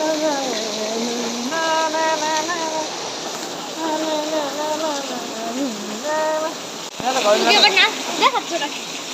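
Rain falling in the first rain of 2026 makes a soft, continuous hiss throughout, partly beneath people talking, including a voice.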